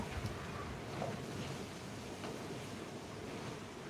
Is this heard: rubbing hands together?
no